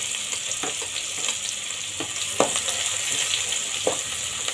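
Finely chopped onions sizzle steadily in a hot pan for a dhaba-style vegetable gravy, with occasional louder crackles and stirring clatters over the continuous frying hiss.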